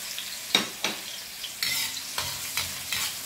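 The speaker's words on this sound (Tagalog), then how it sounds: "Saute lang natin ang garlic at saka sibuyas." Garlic sizzles in hot oil in a pan for pancit sotanghon noodles, a steady close frying hiss broken by several sharp stirring scrapes and bursts, with no talking.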